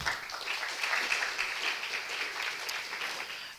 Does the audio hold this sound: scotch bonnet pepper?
no